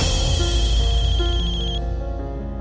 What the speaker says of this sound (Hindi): अबीर का फोन